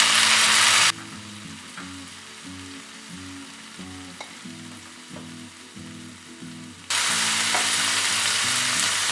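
Tomatoes are added to browned onions in a pan for tomato rava bath and fry with a loud, close hiss. The hiss drops to a quieter crackle with stirring clatter for several seconds, then surges back to full sizzle.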